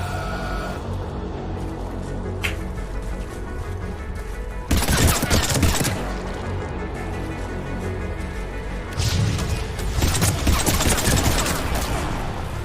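Rapid automatic gunfire rattles in the video game Mass Effect 3, with sustained bursts of rifle fire and heavier barrages swelling around the middle and near the end, loud and dense, with no talk.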